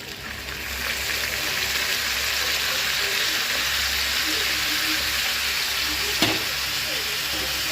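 Boiled beetroot goes into a pan of frying onions, making a loud, steady, dense sizzle that runs throughout, with a brief clatter of stirring near the end.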